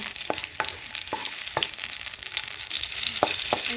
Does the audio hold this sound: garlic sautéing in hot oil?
yes